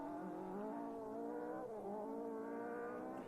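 Rally car engine note on a New Zealand rally special stage, a harmonic-rich tone rising and dipping as the car revs, heard at a moderate distance and fairly faint, with no talk.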